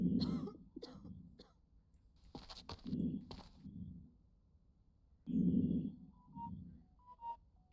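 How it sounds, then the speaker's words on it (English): A character in the game Quarantine Zone coughing repeatedly in short harsh bursts and throat clearing, close and clear with quiet gaps between fits. "But you are coughing?"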